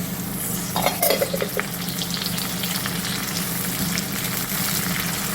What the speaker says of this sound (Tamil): கருவேப்பில் ஒரு ரெண்டு இனுக்கு போட்டுக்கிறேன்